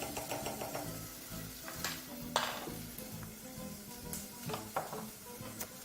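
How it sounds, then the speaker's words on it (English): Tomato sautéing with turmeric powder in a pan, a soft steady sizzle with occasional scraping and stirring clinks from a utensil against the pan, fairly quiet and close. "at this stage you just want to really just saute your tomato"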